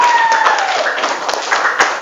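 A classroom of students applauds a group's presentation on positive numbers, a dense, steady patter of many hands with a few louder claps, while a voice talks over it briefly.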